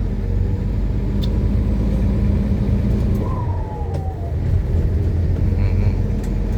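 A car engine rumbles steadily and loud throughout a ride, with a brief rising whine partway through as it revs under acceleration.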